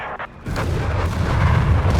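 Bombs fall in the strategy game Company of Heroes 3, a sudden loud burst of deep rumbling explosions that swells and keeps rolling, with no talk.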